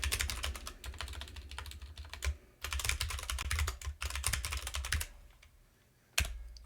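A password is typed on a computer keyboard during a Linux Mint install: close, rapid key clicks in bursts separated by short pauses, ending with one sharp keystroke.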